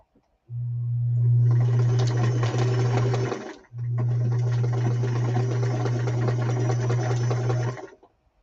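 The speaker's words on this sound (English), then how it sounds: "sewing machine noise for just a few moments" A sewing machine stitching fabric runs steadily with a rapid mechanical whir, stops briefly, then resumes for several more seconds before halting.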